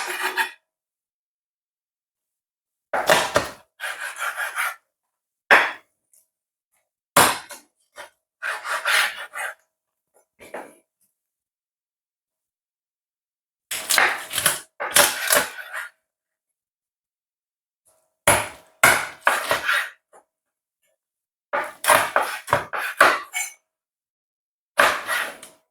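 Knife slicing raw chicken into pieces and trimming off excess fat for Jamaican curry chicken, heard as short bursts of scraping and cutting strokes separated by pauses, fairly close and moderately loud, with no talk.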